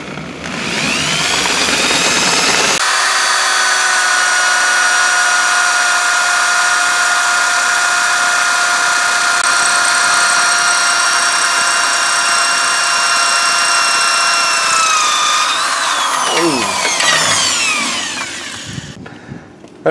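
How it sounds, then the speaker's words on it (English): A loud, steady high-pitched whine of a lubricated drill bit boring through an engine block, holding constant for about twelve seconds before winding down and stopping. "I also put some lube or butter sauce on the drill bit to make it go in smoother"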